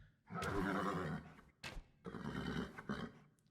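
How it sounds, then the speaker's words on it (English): Horses whinny loudly in an Age of Empires II battle, with knights charging eagle warriors; a long shrill neigh followed by a sharp short cry and another drawn-out whinny, close and without talk. "Horses whinnying, chasing down these eagles, trampling them to death."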